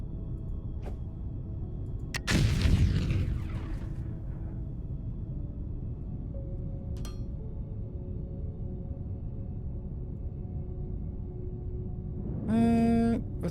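Bombs explode in the voxel-building game Foundry, one broad burst around the two-second mark with a decaying rumble, then a quieter bright impact later, all over a steady low ambient hum.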